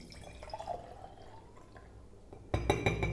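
Water pours from a bottle into a glass tumbler, starting with faint trickles and drips, then turning into a louder, splashing pour in the last half second.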